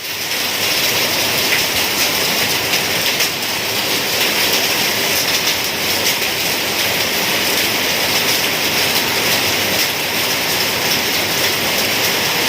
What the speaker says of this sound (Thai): ลูกเห็บนะครับฟังเสียงหลังคานะครับ